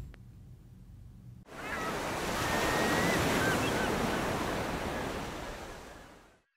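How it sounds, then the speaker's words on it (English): A broad roar of ocean surf swells up after a quiet start, building to a loud sustained crash of water before fading away, standing in for a tsunami wave. "Tsunami, a killer wave, speeding across the ocean at 400 miles an hour."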